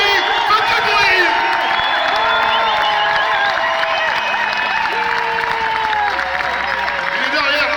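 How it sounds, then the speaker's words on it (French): A loud crowd at a performing arts workers' assembly in the Grande Halle de la Villette, Paris, cheers, whoops and shouts continuously, with clapping mixed into the steady roar. "Pour Mallory, faites du bruit!"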